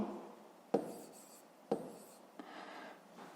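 Chalk or marker writes numbers on a board in three short strokes, each a crisp tap followed by a soft scraping rub, close and quiet with no talking.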